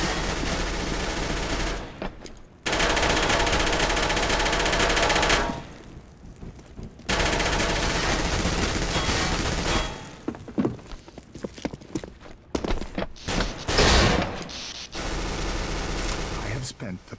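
Sustained automatic gunfire from a co-op mission in the video game CS GO, long loud bursts with short pauses, close and heavy, followed by choppier rapid shots toward the end.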